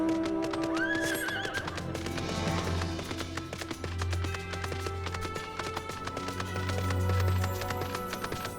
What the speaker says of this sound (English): Yes, I'm riding a horse inside a cave.